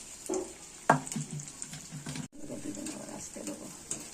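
Vegetable pakora batter dropped into hot oil, a sharp splash and burst of sizzling followed by steady, moderately loud bubbling and crackling of frying.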